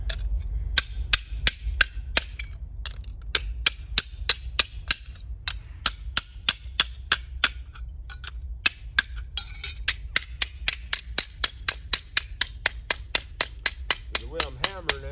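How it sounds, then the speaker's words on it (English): Hammer blows on rivets during repair of a rusted-out metal smoker, dozens of sharp metallic strikes in uneven bursts, sometimes rapid, sometimes paused, close up and loud over a low background hum. "So the way I'm hammering it, it'll curl back a little bit and make a cup to some degree."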